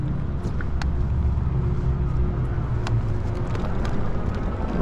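A Luckkeep fat tire e-bike rolling along under a rider, giving a steady low rumble of tires and wind with occasional faint clicks and rattles, continuous and close.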